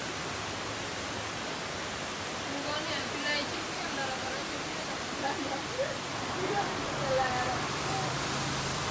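Rushing floodwater pours down Lidorikiou Street in Agios Dimitrios, Athens, a dense, steady roar of flowing water with faint voices and scattered bits of sound rising above it.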